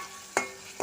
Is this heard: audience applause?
no